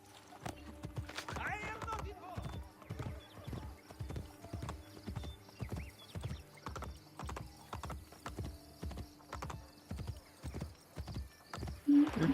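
Horse hooves clip-clop in a steady galloping rhythm in Assassin's Creed Brotherhood, with a brief whinny near the start and faint game sounds behind, moderately close and fairly quiet.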